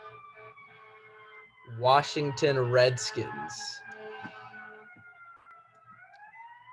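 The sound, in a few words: ambulance siren passing outside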